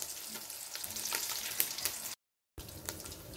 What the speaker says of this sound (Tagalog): Kailangan natin sandali maluto ang tuyo.